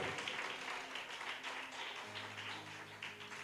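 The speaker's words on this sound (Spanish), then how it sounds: "Aplauda a tu Dios, por favor" Church congregation applauding during a service, a dense, steady wash of many hands clapping at moderate distance, with a sustained musical tone entering halfway through.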